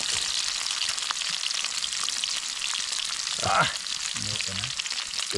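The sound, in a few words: corned beef frying in a pan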